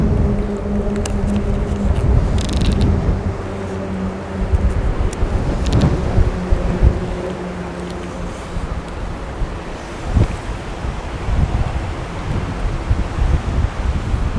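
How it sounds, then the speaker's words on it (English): Wind gusts across a fishing lake, buffeting the microphone with a loud, rumbling roar that rises and falls throughout. "Whoa, wind."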